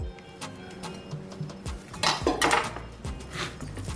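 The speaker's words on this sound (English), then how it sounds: "you can always use your knife and nick the corner like so" A knife nicking the skin of saltfish on a board produces light clicks and taps, with a louder scraping burst midway, close and fairly quiet.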